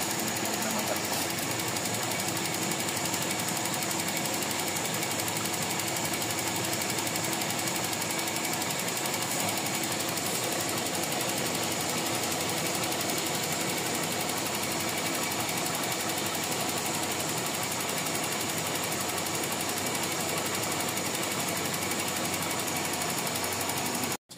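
Toyota 4A-FE engine idling, with an AC auxiliary fan and idle-up fault present. A steady, dense mechanical drone with fine ticking runs close and unbroken throughout, and nobody speaks.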